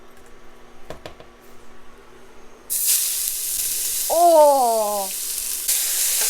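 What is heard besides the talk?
drained onion sizzling in hot pan, cooking chole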